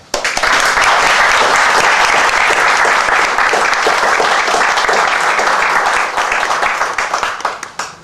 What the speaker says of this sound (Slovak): Oficiálne ju uvedieme jedným potleskom.